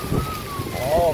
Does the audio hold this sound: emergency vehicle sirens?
no